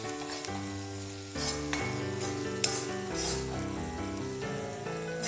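Sliced green chilies fry and are stirred in a pan while making a Thrissur-style duck roast, a steady sizzle with light utensil scrapes partly masked by prominent background music.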